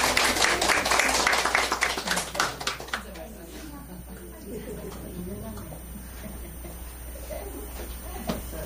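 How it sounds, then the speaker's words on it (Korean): Congratulatory applause in a church rings out loud at first, a flurry of many hands clapping that fades after a few seconds into quiet room murmur and voices. "축하 박수"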